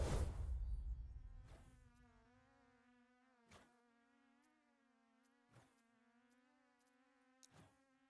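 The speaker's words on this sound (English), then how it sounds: "Right, we need more bees." Summoned bees in the Last Epoch action game hum in a steady, low, sustained drone that carries on quietly for several seconds, broken by a few soft clicking game hits, with no speech.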